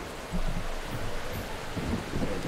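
A raging thunderstorm in the dark game world of The Hex, with steady rain hiss and low rumbling thunder swells rolling through the short stretch, no voices.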